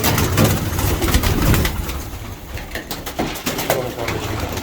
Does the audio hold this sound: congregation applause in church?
no